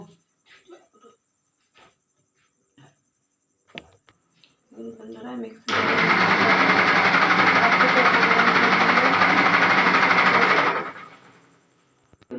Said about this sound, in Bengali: সমস্ত উপকরণগুলো দিয়ে ভালো করে গুলে নিয়ে মিক্সির জারে মিক্সিটা করে নেব